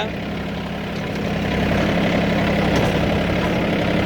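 A VST 932DI 30 hp tractor engine runs at a steady idle nearby: a continuous low, throbbing drone that rises slightly in loudness after the first second, with no voices.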